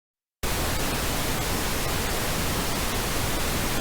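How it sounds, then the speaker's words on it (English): After a moment of silence, steady pink noise switches on abruptly, a constant, even hiss with a deeper, fuller low end. "Pink noise is closer to how we hear frequencies"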